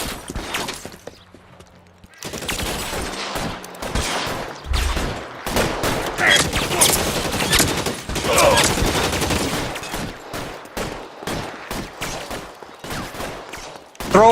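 Video game shootout with bursts of rapid gunfire crackling loud and dense, shots overlapping in volleys for several seconds after a short quieter lead-in.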